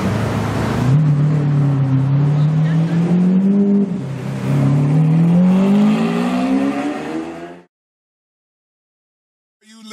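A Lamborghini Centenario, one of only 20 built, revs its engine loudly and close by in two rising, climbing sweeps before the sound cuts off abruptly into near silence.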